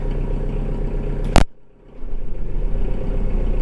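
A tractor engine for clearing snow runs steadily nearby with a continuous mid-low drone, broken by one sharp click or knock and a brief drop in loudness before it settles back.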